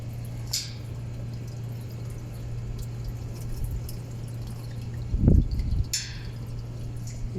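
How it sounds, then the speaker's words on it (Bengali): Water being poured into an air conditioner, heard as a few soft splashes and drips over a steady low hum, with a brief louder gurgle near the end. "এসিতে পানি খাওয়ানো হইতেছে।"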